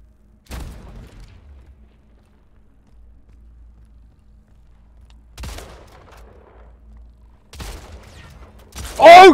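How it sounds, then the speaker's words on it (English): Gunfire in the arena shooter Splitgate comes as a few separate short bursts, one early and two later, with a louder sharp burst at the very end over a quiet background. "you're trying to shoot me through my portal"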